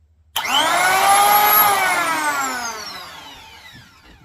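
A corded WOODSTARTER electric hand planer whines up to speed with a high rising tone, holds loudly, then slowly winds down after trigger release, with no voices.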